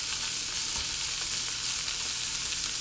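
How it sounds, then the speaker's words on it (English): Egg rolls frying in oil in a Green Life pan with vegetables, a loud steady hiss and crackle of sizzling that continues throughout, close and without talk. "I am going to be putting them back in this pan and frying them up."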